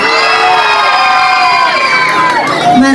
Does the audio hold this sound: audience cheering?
yes